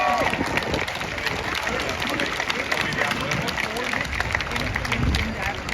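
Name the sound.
crowd applause for the protest organisers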